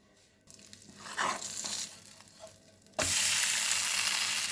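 Ghee sizzles loudly in a hot pan for home cooking, a dense steady crackle that starts abruptly and holds, after some quieter kitchen clatter.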